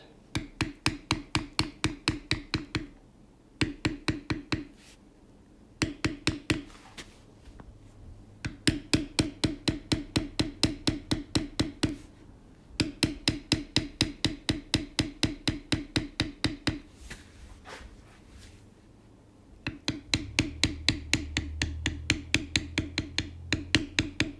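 A tooling hammer taps a beveler across a leather wallet pattern in rapid, even bursts of sharp knocks, pausing briefly between runs, close and crisp.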